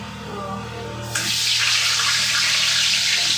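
Water gushes from a tap that has come open, starting as a steady hiss about a second in and continuing loud and close.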